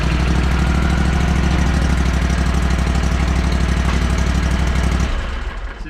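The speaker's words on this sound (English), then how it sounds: "it's a hydraulic wheelbarrow that drives" A Toro Multiforce hydraulic wheelbarrow runs with a loud, steady small-engine drone and a throbbing low rumble that holds constant for about five seconds before easing off slightly at the end.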